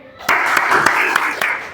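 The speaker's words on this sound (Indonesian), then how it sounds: "Oke, tepuk tangan untuk Mas Diki." A small group of people clap together for a classmate at a teacher-training session, a short, close burst of uneven handclaps.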